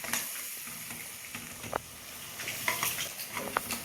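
Garam masala and other spice powders fry briefly in oil in a pan for soya chunk biryani, with a steady sizzle and intermittent spoon scrapes and taps.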